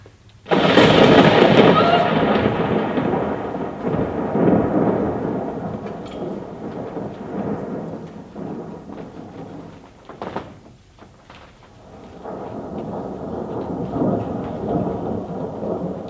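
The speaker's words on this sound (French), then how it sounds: "Mais qu'est-ce qui tombe? Sacrée tempête." Thunderstorm with heavy rain: a loud, close burst of rumbling thunder opens, then a dense downpour roars on steadily, easing briefly before building again.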